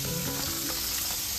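Garlic and raw green chilies frying in hot oil, a steady dense sizzle that fills the whole moment without pause, close and fairly loud with no voices.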